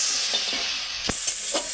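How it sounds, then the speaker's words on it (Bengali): Potatoes finish frying in a kadai of oil with a continuous close sizzle, broken by two or three short utensil clinks and scrapes as they are stirred. "দেখো বন্ধুরা, আলুটা ভাজা হয়ে গেছে"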